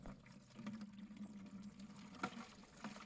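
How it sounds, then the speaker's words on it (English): Maple sap pours slowly from a tree-hung collection bag holding ice into a 5-gallon bucket, a quiet continuous trickle and splash with a low hum beneath and one brief louder clunk partway through. "You can see here I'm kind of pouring slow, kind of trying to keep that ice in the bag"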